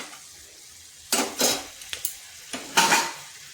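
Potatoes for aloo posto are stirred and fried in a pan, giving two pairs of scraping spatula strokes over a faint background sizzle, close and clear with no talking.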